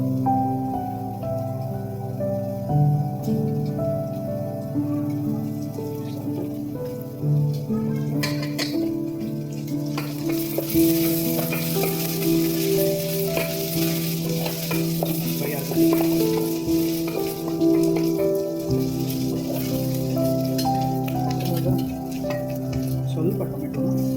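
Onions frying with ginger garlic paste in a pan for chicken biryani, a steady close sizzle with stirring scrapes throughout, growing louder and brighter midway.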